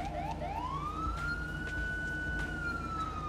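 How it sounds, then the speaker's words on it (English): A police car siren in GTA 5, one rising wail that holds steady over a low engine rumble, fairly faint and with no talking. "If you hold it, it still give you the siren."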